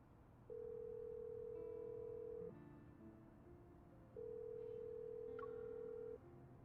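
A phone call rings out unanswered: two long electronic ring tones about two seconds each, separated by a pause, heard faintly over a low background hum.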